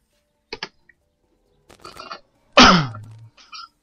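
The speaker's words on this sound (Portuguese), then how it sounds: "desculpe a tosse" A person coughs once sharply, followed by a raspy throat sound, with a few faint clicks and breaths around it.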